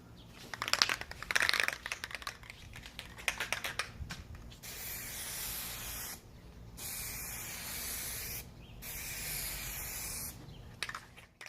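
Plasti Dip sprays onto a car tail light in bursts, loud close hissing lasting a second or two at first, then longer sustained sprays separated by short pauses and quiet rattling of the can.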